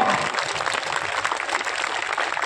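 An audience at a gathering about Babasaheb and a Dhamma caravan in Agra claps continuously, a steady, fairly loud roar of many hands with no speech on top.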